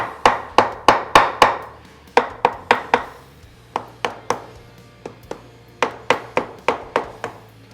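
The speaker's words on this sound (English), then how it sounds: "take a little soft mallet, a couple of little taps" A soft mallet tapping the cam cover into place on a motorcycle engine during an S&S Cycle cam install on an XL model: crisp, close knocks in quick bursts of several strikes, separated by short pauses, with no talking.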